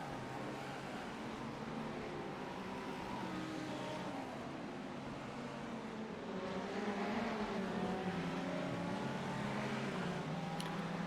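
GT3 race cars in a racing video game roar steadily as a pack, engines droning and shifting pitch continuously at moderate distance, with no talking over the engine noise.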